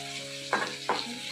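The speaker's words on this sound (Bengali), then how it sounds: "আর এখানে ভাজা হচ্ছে।" Food frying in a pan in a home kitchen as a birthday meal is prepared. A steady sizzle runs throughout, with two louder bursts of crackling partway through and a third at the end, and no one speaks.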